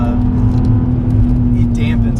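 Modified VW Mk IV R32 engine giving a steady, even low hum from inside the well-insulated cabin, continuous and fairly loud with faint background noise.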